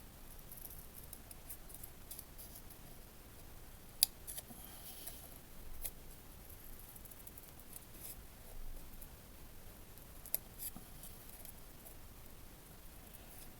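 Scissors snipping paper flower petals for a handmade birthday card, quiet close-up cuts with a few sharper clicks scattered through a low room hush, no talking.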